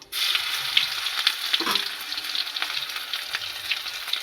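Garlic paste drops into hot tempering oil with dried red chilies, whole cumin and garam masala for a banana flower kalia. It bursts into a loud, steady sizzle from the start and continues with faint stirring scrapes, without any voices.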